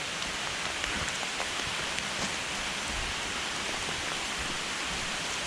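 Steady rain falling outdoors after a long downpour, a constant hiss of drops on surfaces with no voices.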